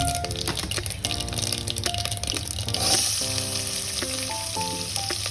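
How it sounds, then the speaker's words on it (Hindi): Diced onions hit hot oil with crackling mustard seeds, making a loud, steady sizzle at close range, with faint background music running beneath it. "अब जब ये क्रैक होने लगा है, हम फटाफट इसमें डाइस्ड अनियंस डालेंगे।"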